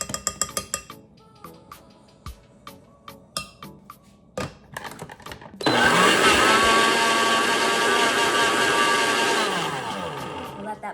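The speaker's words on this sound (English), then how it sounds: "Let that blend." A blender starts abruptly after a series of clinks and knocks, then whirs at a loud, steady high-pitched roar while blending a drink.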